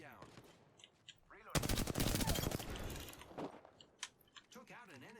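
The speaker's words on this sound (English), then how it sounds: "Opening fire." Automatic gunfire in the battle royale game Apex Legends, a dense loud burst of rapid shots lasting about one and a half seconds, followed by scattered single shots and game effects, with voices talking before and after.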